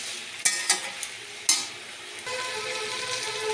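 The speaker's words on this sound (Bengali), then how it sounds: "তো মশলা দিয়ে নাড়াচাড়া করে নিয়েছি।" Slit green chilies and a paste of green chili with white and black cumin are stirred as they fry in a pan. A few sharp spatula knocks give way to a steady, close sizzle, with no voices.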